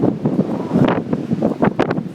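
Strong wind in a blizzard buffets the microphone in a steady, loud roar with gusty surges, heard alone with no talk.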